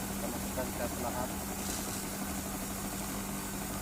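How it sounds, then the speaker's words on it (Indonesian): An engine-driven pepper grinding machine runs at a steady pace, its motor giving off a constant, even hum and rattle with no pauses throughout. "Dalam posisi on, kita coba menepung lada."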